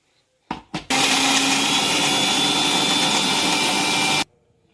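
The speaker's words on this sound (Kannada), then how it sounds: "ಫಸ್ಟ್ ಬಿಸ್ಕೆಟ್ಟು ಮಿಕ್ಸಿಗೆ ಹಾಕ್ಕೊಂಡು ಪುಡಿ ಮಾಡ್ಕೊಬೇಕು" Mixer grinder running with a large jar powdering biscuits: two short bursts, then a steady, loud whirring grind that holds for about three seconds and cuts off sharply, with no voices.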